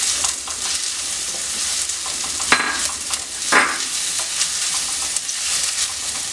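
Onions crackle and sizzle in a hot pan for a potato and prawn stir-fry, loud and close, broken by a couple of sharp scraping stirs of a spoon against the pan.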